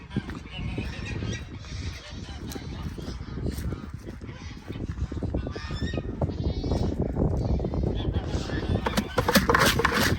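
Goats bleat close by while a person talks over them, the calls growing more frequent toward the end.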